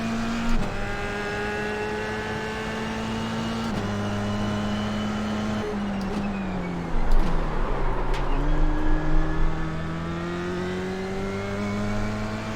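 A race car in the iRacing simulator holds a steady engine drone through gear changes, then its tires scrub and squeal as it slides sideways before the revs climb again, loud and close with no talking.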